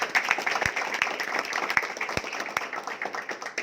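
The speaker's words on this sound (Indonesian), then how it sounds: "Tepuk tangan." Applause from a seminar audience, a steady dense patter of many hands clapping with a few sharper claps standing out, close and continuous.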